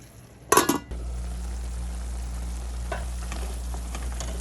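Eggs frying with mashed tomato in a covered pan, a brief clatter of the lid or utensil early on, then a steady low sizzle alone with faint crackles.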